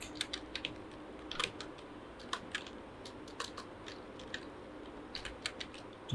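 Quick, light clicks of typing on a computer keyboard, irregular and continuous over a low background hiss, fairly faint and close with no talk.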